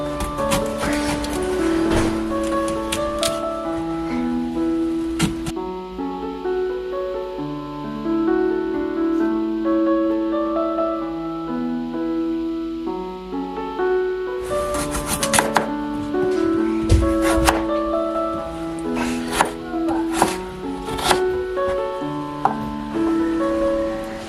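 Cauliflower, potato and onions are chopped with a knife on a board, sharp rhythmic cuts in quick runs, paused mid-way, then resumed more densely over a bed of soft background music.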